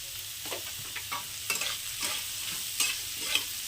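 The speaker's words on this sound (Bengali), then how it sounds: "খুব ভালো করে মিশিয়ে নিচ্ছি" Vegetables for egg chicken fried rice being stir-fried in a pan: a soft continuous sizzle broken by repeated scraping strokes of a spatula at an irregular rhythm, close and moderately quiet, with no talking.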